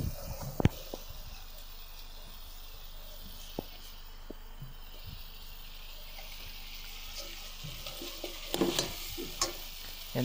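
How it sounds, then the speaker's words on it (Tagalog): A spoon stirs chicken sinigang, a Filipino sour soup with fish sauce and green chili, in a pot, giving scattered faint scrapes and clinks over a soft simmering hiss, with a cluster of louder knocks near the end. "And then halo-haluin natin ulit."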